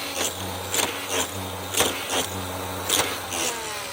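A Traxxas 6S Raptor 4x4 RC truck runs with its motor stuck at full throttle, giving a steady close electric whine with harmonic bands, broken by several sharp bursts and knocks.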